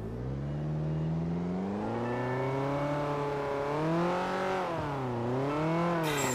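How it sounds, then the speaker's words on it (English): Twin-turbo engine of a Ferrari Challenge Stradale in the racing game Forza Motorsport 5 revving loudly and steadily, its pitch climbing, dipping and climbing again through gear changes, with a sharp burst of noise at the very end. "Did you hear that turbo?"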